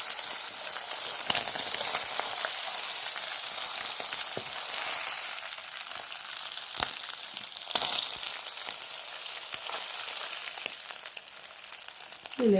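Urad dal frying in hot oil gives a steady, dense sizzle that runs unbroken throughout, with a few faint clicks and stirring sounds beneath it.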